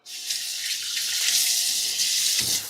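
Steady running water from a sink tap splashes over a nonscratch scouring pad being rinsed, a continuous broadband wash lasting a few seconds with small shifts as the pad moves under the stream.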